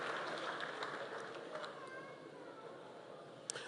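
Audience applause at a graduation ceremony at the Kenya Institute of Development Studies, a steady, moderately faint wash of clapping throughout with a single sharp clap near the end.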